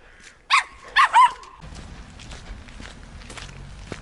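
A small dog in a road in Comrat, Moldova gives a few sharp barks close by, followed by a low, steady rumble of passing traffic, with no voices.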